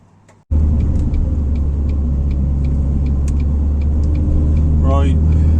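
A car with recent wastegate work, chasing a loss of boost, starts moving on a test drive: a sudden loud, steady engine and road rumble heard from inside, with a brief rising whine near the end.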